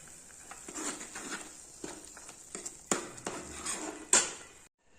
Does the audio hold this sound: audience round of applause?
no